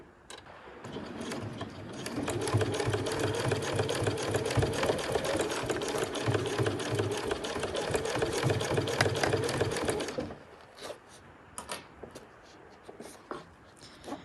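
A sewing machine runs steadily for about ten seconds while stitching down the front flap of a Honey backpack, with brief back-stitching, then stops, leaving faint handling clicks.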